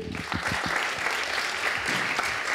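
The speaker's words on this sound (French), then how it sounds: "Applaudissements pour lui aussi." At a presentation on seaweed, an audience claps in a warm, continuous wash of applause, with a voice briefly heard over the start.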